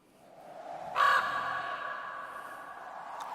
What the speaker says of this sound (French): Corbeau de la solitude.